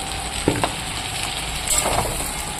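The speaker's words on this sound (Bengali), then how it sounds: "আলুটা এবার আমি মাংসতে দিয়ে দিলাম" Fried potatoes hiss and sizzle steadily in a pan of browned meat, a constant close frying noise with a few soft knocks from stirring.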